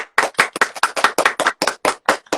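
A live audience claps in about a dozen sharp, loud bursts at a steady rhythm with brief gaps of silence between them, close and alone with no talk.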